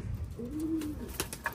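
A pigeon gives a single soft, rolling coo close by, a brief low throaty note followed by a few light clicks and rustles.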